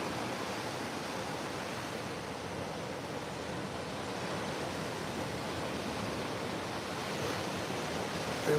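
Ocean waves wash steadily onto a beach, a soft continuous broadband surf hiss heard from a distance without distinct breaks.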